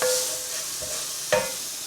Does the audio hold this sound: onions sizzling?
yes